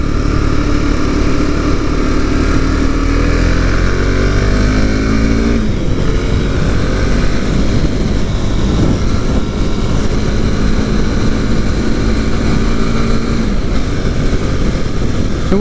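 A Husqvarna Svartpilen 701 single-cylinder motorcycle accelerates hard up a twisting freeway on-ramp, its engine note rising through the gears with a shift midway, then droning steadily at speed under heavy wind rush.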